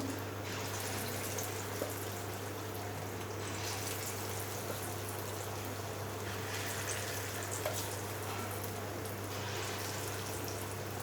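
A second batch of mixed dal bhaji fritters frying in hot oil: a soft, continuous crackling sizzle holds steadily over a low hum, fairly faint and with no voices.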